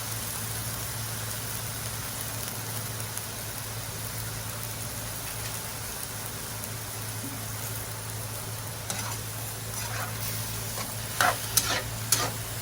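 Bicol express pork simmers in a pan with a constant bubbling sizzle, and a few sharp clinks of stirring come through near the end.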